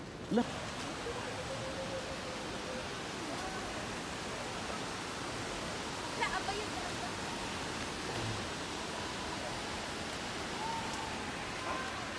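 Lake Sebu waterfall pours in a steady, dense rush of falling water, loud and continuous throughout with brief faint background sounds.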